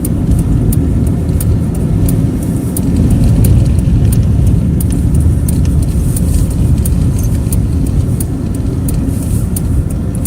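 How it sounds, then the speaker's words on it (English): A big pickup truck drives past on a slick, snowy road during lake effect snow, a loud continuous tire and engine rush close by with steady road noise throughout. "it's just a big pickup truck."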